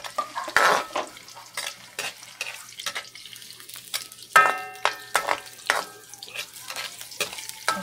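Onions sauté in a pan, with a soft sizzle beneath repeated sharp metallic clinks and scrapes of a utensil against the pan, irregular and close; no voices.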